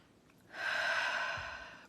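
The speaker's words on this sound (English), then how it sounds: "let's just do a couple of nice deep breaths in and out" One slow, deep breath drawn in and let out during a calm morning relaxation session, close and soft, alone without talk.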